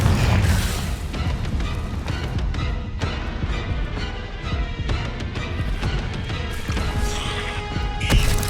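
Explosive Confringo spell blasts in Hogwarts Legacy, deep booming bursts and crashing debris over a dense, rumbling game soundscape, loud and repeated through the stretch without talk.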